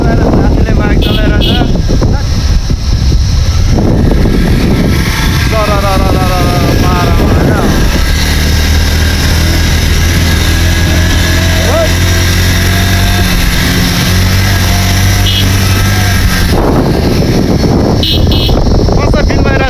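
Motorcycle ridden with a friend on the road in Nepal, its engine droning and shifting pitch under strong wind buffeting, loud and close throughout, with voices appearing at the start and end.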